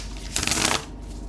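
Tarot cards being shuffled in a single brisk burst of riffling, close and clear, in an otherwise quiet room.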